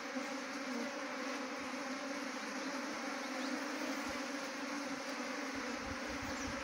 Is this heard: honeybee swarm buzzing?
yes